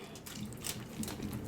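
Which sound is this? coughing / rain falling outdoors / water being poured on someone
water being poured on someone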